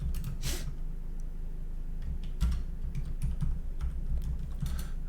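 Close, steady computer keyboard typing with a run of soft key clicks over a low background hum, no voices.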